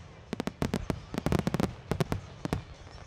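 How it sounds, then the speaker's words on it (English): A J&M Displays fireworks show at a night event, with loud sharp bangs and crackling bursts in quick irregular clusters, some overlapping, with brief gaps between volleys. "The night ends with a fireworks show by J&M Displays."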